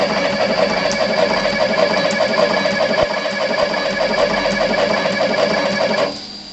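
A KS-09C automatic wire cut and strip machine runs steadily, cutting 70mm wires and stripping 5mm from each end, giving a loud continuous mechanical whir with faint periodic clicks before it abruptly quiets near the end.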